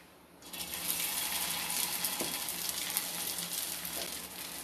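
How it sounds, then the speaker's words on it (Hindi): Vada batter drops into hot oil and fries with a steady, close sizzle that swells after a quiet start and continues crackling throughout in a home kitchen. "तो चलिए बड़ा को मैं फ्राई कर लेती हूँ"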